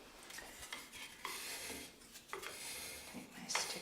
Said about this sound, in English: So if they've separated on the lid, they've separated in the can. Give it a good stir.